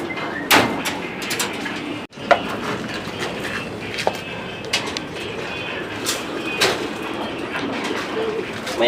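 Pigeons in a loft feed from a PVC feeder, with soft cooing, wing flutters and scattered pecking taps and clicks over a steady busy background, plus one sharp knock.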